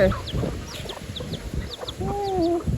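A chicken clucks repeatedly outdoors in a run of short, close clucks with some higher calls over a low background rumble.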